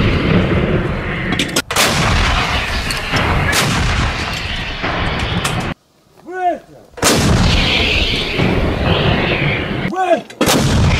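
Loud, repeated booms of 152 mm D-20 and 2A36 artillery guns firing, with heavy rumbling between shots, broken by brief near-silent gaps where a whistling tone rises.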